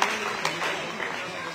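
Sustained applause from an audience at the City Live channel's 13th foundation day and Dhanbad Utsav Season 6 celebration in Dhanbad, a steady even wash of clapping throughout with no clear breaks.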